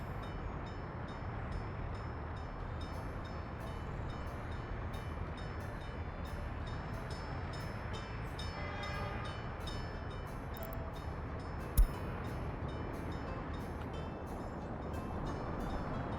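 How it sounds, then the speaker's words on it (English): A freight train loading boards at a station in the city-building game Workers & Resources: Soviet Republic gives a steady low rail rumble with a faint metallic tone, one brief clank, and no voices. "that's because the train is there picking up stuff, which causes a traffic jam"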